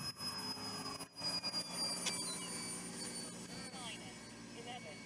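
An RC model Gulfstream G650 jet with twin 70mm ducted fans roars steadily as it passes close overhead, its high whine rising and fading while gusty wind buffets the microphone.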